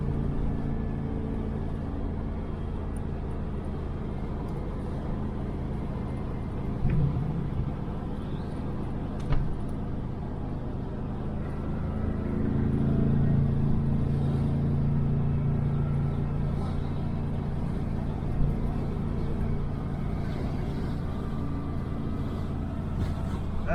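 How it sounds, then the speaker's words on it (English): Steady low road rumble and wind noise inside a 1968 Chevelle Nomad on a test drive after left-side body work, a continuous drone with a brief swell midway and no talking. "Still got some wind noise coming in through the passenger side."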